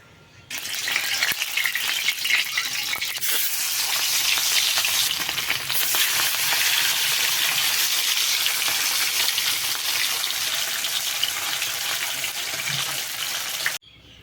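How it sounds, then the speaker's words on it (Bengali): Fish frying in hot oil in a wok, a loud, dense sizzle that starts abruptly and keeps crackling steadily for over ten seconds before cutting off. "কড়াইটা গরমও হয়ে গেছে এখন মাছটা ভেজে নেব"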